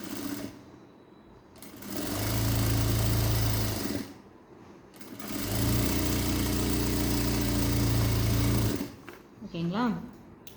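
A domestic sewing machine stitches a straight quarter-inch seam through blouse lining fabric on a princess-cut blouse, running in two steady, loud bursts of several seconds each, with a person speaking in the pauses between runs.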